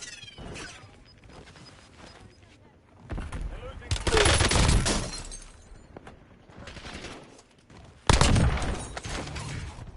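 Gunfire in a shooter video game: dense bursts of rapid automatic fire in two loud clusters, with scattered single shots and quieter gaps between them.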